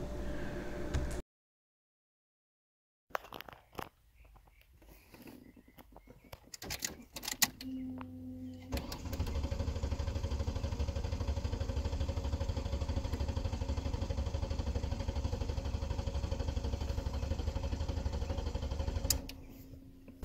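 A 2007 Ford Taurus with the 3.0L engine cranks over and then runs steadily, its low drone continuous and close after some brief clunks and a short silence near the start.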